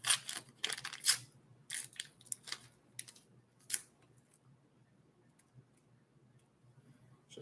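A plastic bag is torn open by hand, giving several sharp, close crinkling rips in the first few seconds before it settles to quiet handling noise.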